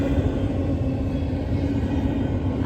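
A CSX CM44AC rebuild locomotive leads an intermodal freight train south on the A&WP subdivision, heard as a steady, loud, continuous low rumble of rolling freight cars and engine throughout with no talking.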